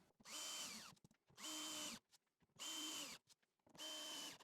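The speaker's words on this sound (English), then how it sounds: "I'm just going to whack a few screws into those" Power drill driving screws into wooden rails of a circular saw track jig, four separate whirring bursts of about a second each, each rising then cutting off, close and clear with short quiet gaps between.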